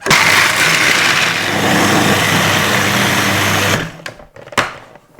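Kitchen blender grinding nuts and seeds, a loud close continuous whirring roar for about four seconds, then stopping, followed by a couple of brief clunks.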